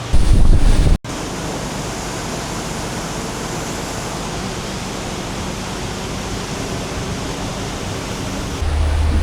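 Wind sweeps across the water aboard a yacht as a loud, steady broadband roar with a rumbling buffet on the microphone, cut off briefly near the start and continuing unbroken after.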